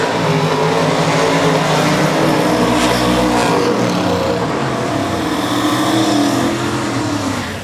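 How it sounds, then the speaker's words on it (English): A twin-turbo Mustang and a nitrous Ford drag racing at a no-prep event, a loud, steady, broadband engine roar that fills the whole stretch with a heavy low rumble and shifting tones. "Twin turbo versus nitrous."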